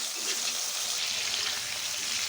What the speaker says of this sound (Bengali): এখন আমি আবার মাছের তেল দিতে চিংড়ি মাছটি ভাজতে নেব